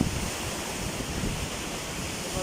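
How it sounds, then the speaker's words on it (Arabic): Atlantic Ocean surf and wind heard from a boat at sea on a fishing trip, a steady rushing roar of waves with buffeting wind noise on the microphone, no voices. "وهذا هو المحيط الأطلسي"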